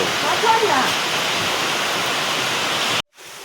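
Heavy monsoon-season rain in Hamirpur, India pours down in a loud, steady rushing hiss that stops abruptly, leaving only a quieter background.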